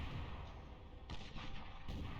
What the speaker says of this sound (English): They shoot a missile or a rocket rather.